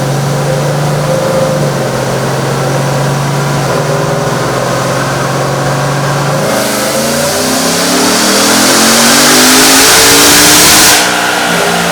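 Roush supercharged pickup truck revving hard on a dyno in fifth gear, a loud steady engine drone that swells into a rising, screaming pull, then drops off sharply near the end.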